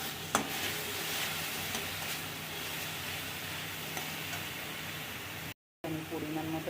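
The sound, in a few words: frying ginger garlic onion tomato paste in a pan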